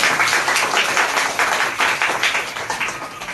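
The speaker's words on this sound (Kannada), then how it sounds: "ಅದ್ಭುತವಾಗಿ ಆರಾಧನೆ ನಡೆಸಿಕೊಟ್ಟಂತ ಅಮ್ಮವ್ರಿಗೆ ಎಲ್ಲರೂ ಕೈ ಚಪ್ಪಾಳೆ ತಟ್ಟೋಣ" A church congregation claps for a worship leader, a dense, even round of hand clapping that carries on steadily throughout and fills the room with no talking over it.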